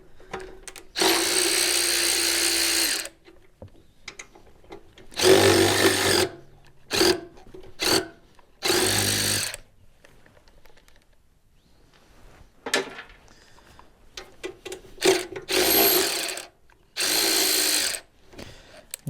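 A power tool loosens a fender bolt on a Super A tractor, sounding in several loud bursts of a few seconds each, separated by short gaps, with clatter and handling noise between them.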